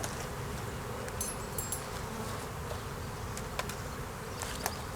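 Honey bees buzz steadily throughout a January hive inspection of a populous colony kept with a hive heater. The hum is dense and close, with faint clicks and rustles from handling the hive.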